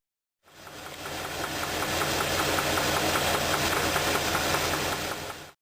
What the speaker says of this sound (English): high-frequency pressure waves are produced, creating the characteristic metallic ping sound.